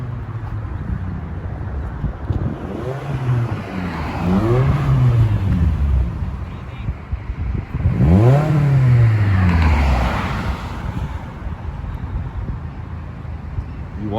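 A Scion tC with a new exhaust passes twice under load, each pass a rising engine drone that swells close, then falls away in pitch, with wind buffeting the microphone and voices talking between the passes.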